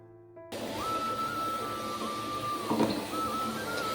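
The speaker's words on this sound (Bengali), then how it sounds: "তার জন্য মিক্সিতে বাটছি, নাহলে আমি শিলেই বাটতাম" A mixer grinder grinds green chilli and garlic, starting abruptly after a brief quiet moment and running with a steady whirring motor whine, with a short rattling burst near the end.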